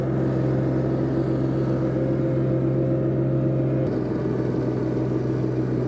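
A turbocharged compact tractor running at half throttle while pushing snow with a direct-attach front blade, its diesel engine a loud, close, steady rumbling drone with no speech.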